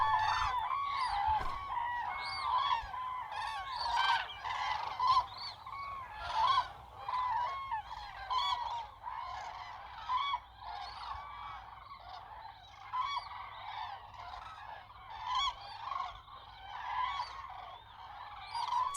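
A dense flock of greylag geese honks in chaotic overlapping calls, loud and continuous, many birds close at hand crying over one another in a noisy wild chorus.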